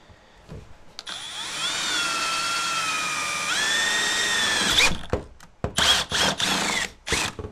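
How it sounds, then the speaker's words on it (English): A power drill whirs steadily for several seconds while drilling a hole in a Carolina Skiff boat seat, its pitch rising partway through, then stops, followed by a few short clattering knocks. "First we're going to start by drilling the hole for the switch in the seat."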